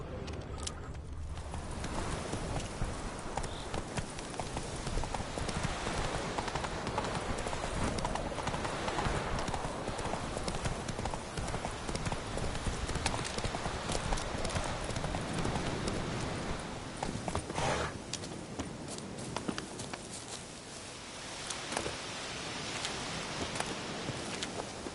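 Hooves clip-clop in a steady rhythm as Roach, a horse in The Witcher 3: The Wild Hunt, trots on through game ambience, close and continuous, with a faint whinny.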